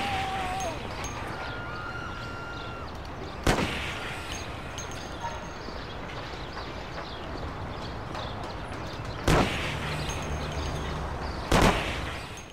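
Gunfire in the video game Mafia: three loud, separated shots over a constant clattering background, each a sharp burst that quickly fades.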